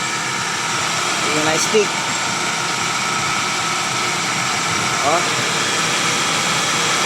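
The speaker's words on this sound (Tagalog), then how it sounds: "Napaka-tehimik ng makina." A 1995 Nissan car engine idles quietly and smoothly under a constant hum, with a few brief words spoken over it.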